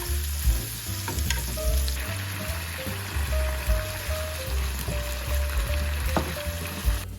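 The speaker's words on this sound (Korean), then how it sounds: "너무 고기만 먹으면 안 될 것 같아서 고기 기름에 버섯도 같이 볶아요." Mushrooms stir-frying in rendered pork belly fat, a steady sizzle with a spatula scraping and clinking against the pan throughout, close and fairly loud.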